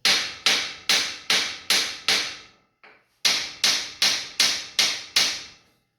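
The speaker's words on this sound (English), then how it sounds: "just hit it with a hammer a couple times just to kind of shock it" A hammer strikes a rusted bolt on a classic car that is overheating: two sharp, loud, evenly spaced series of about six metallic blows each, separated by a short pause, with no talking.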